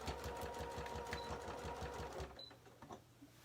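Sewing machine top-stitching fabric for a sew-along project, a fast steady mechanical chatter of needle strokes running close and loud for about two seconds, then stopping into quieter handling noise.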